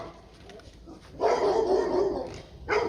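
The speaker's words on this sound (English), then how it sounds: "And here comes the dogs." Several dogs bark nearby outdoors by a greenhouse: a sustained, loud volley of barking followed by a fresh burst at the end.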